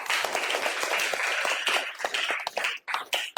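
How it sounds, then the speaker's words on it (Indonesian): Applause from a classroom group at a teacher training session fills the room with dense, fairly close clapping that thins into scattered claps toward the end. "Sekali lagi tepuk tangan untuk kita semua."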